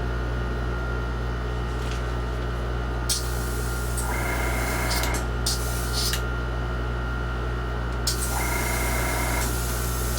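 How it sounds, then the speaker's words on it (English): An airbrush hisses in short bursts while spraying paint on a Kestra model kit, two separate spurts over a constant compressor hum and steady background drone. "So you have to readjust your needle just enough to where you get a good fine spray out of it"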